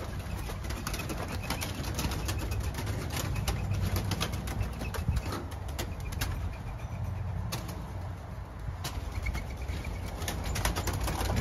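Ringneck doves trapped in a bait cage coo and flutter close by, with soft repeated coos, wing flaps and scattered clicks over a steady outdoor background.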